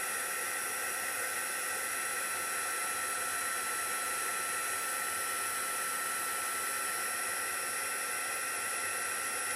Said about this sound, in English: when I heat emboss, I don't waft it around too much